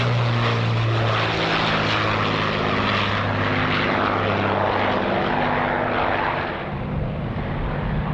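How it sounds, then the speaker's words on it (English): Avro Lancaster four-engined piston bomber flying past at an air show with its bomb doors open, a loud sustained propeller drone whose pitch sinks as it passes, no talking. "The Lancaster's back with its bomb doors open to demonstrate its capacious bomb bay."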